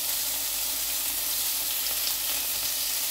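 Chicken satay skewers sizzle steadily on the heat, a close, continuous frying hiss with no voices or breaks across the whole stretch.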